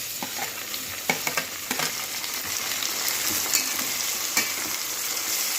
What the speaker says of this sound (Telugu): టమాటాలు ఇలా వేసి మూత పెట్టేసి కొద్దిసేపు మగ్గుతాయి బాగా.